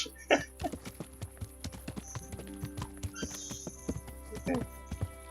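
Horse hooves clip-clop steadily in Kingdom Come: Deliverance, irregular close thuds on hard ground with a brief whinny, a voice talking in the background, and a low constant hum underneath.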